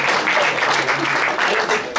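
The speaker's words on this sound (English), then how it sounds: "Let me hear more applause." Loud, dense audience applause on a campus after a trustee is introduced, continuous clapping close by with a brief dip near the end.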